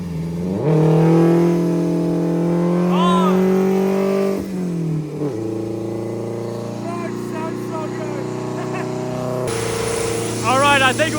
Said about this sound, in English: We're warming up the car a little bit first.